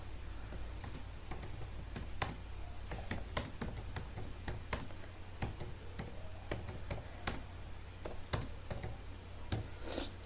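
Rapid, uneven clicking of keys being typed on a computer keyboard, close by, with short pauses between bursts over a low steady hum.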